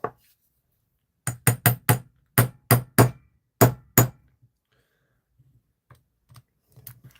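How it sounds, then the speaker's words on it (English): Eight sharp metallic hammer strikes on a bench block in quick bursts, close and loud, followed by a few faint taps and soft handling noises. "Bench block. Hammer!"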